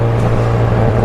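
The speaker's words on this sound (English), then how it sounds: "So there I'm just running up the gears just" A Subaru Impreza STi S204 pulls on a test drive, giving a brief, loud, steady engine drone heard close up.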